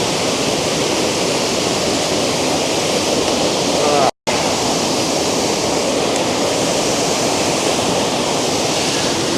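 The Lower Campsie waterfall pours in a loud, steady rush of falling water, heard close up and unbroken except for a momentary dropout.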